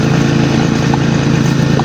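A grass cutter's small engine runs steadily and loudly close by, a constant droning buzz with a rapid pulsing rhythm and no pauses, heard alone without talk.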